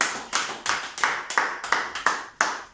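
A church congregation claps for Jesus during an evangelistic sermon, a burst of sharp, fairly close hand claps in a brisk, uneven rhythm, with no voices over it.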